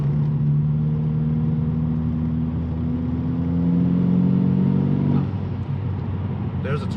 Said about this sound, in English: There's a turbo.